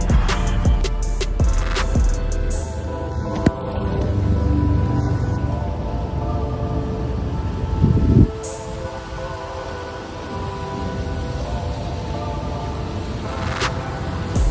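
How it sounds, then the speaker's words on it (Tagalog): Inside a moving Paris metro train, a low rumble and rattle of the carriage continues, with clanks and a louder surge partway through. No one speaks. "So andito na tayo sa tren guys."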